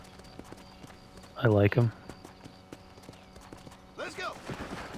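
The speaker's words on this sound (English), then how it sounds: "Very good looking spooky aura horse." Hooves of a horse in a Red Dead game clip-clop in a steady rhythm under a low background hum, with a loud spoken phrase early and more talk near the end.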